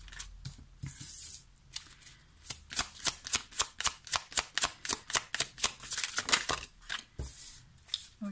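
Tarot cards riffled and shuffled close by, a long run of quick crisp flicking slaps in steady rhythm, with a few softer card sounds at the start and end as cards are drawn.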